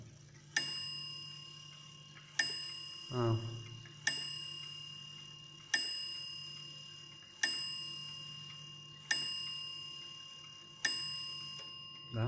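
A German wall clock strikes a bright, ringing chime in evenly spaced single strokes, each tone ringing on and fading before the next. A brief voice cuts in once early on.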